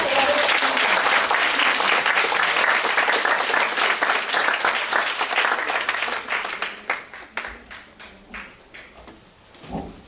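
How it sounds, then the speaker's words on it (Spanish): An audience at an academic gender-studies conference applauds loudly and densely, then the clapping thins into scattered, separate claps before dying away near the end. "Un aplauso."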